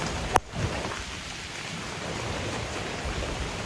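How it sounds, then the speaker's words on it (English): Heavy rain falls in a dense, steady hiss that fills the whole stretch, with one brief sharp crack near the start. "raining quite a bit"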